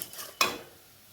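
Mango sandesh mixture stirred in a pan, a quiet scrape followed by one sharper utensil knock and a faint sizzle, all brief and close.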